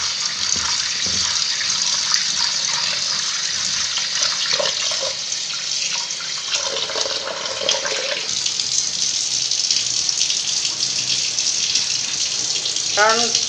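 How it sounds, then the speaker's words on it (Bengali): Soaked chana dal is washed under a running kitchen tap, water splashing and pouring steadily into a bowl for the whole stretch, with brief handling sounds and someone speaking over it. "এবার ভালো করে ধুয়ে নিতে হবে ছোলার ডালটা।"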